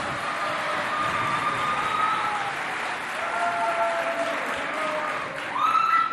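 Audience clapping at a school quiz contest between two colleges, a steady dense wash of applause running throughout, with a brief whistle-like tone near the end.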